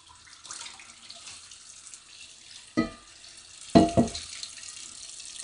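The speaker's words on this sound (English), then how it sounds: "I'll give it another rinse here." A cast iron pan is rinsed under a running kitchen tap, a steady hiss of water with a few louder splashes as the pan is turned under the stream, close by and with no talking.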